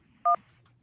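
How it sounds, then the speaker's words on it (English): A single short two-tone electronic beep from a phone line signals an incoming call on a call-in show, clear and isolated against a quiet low hum. "Oh, the phone's ringing."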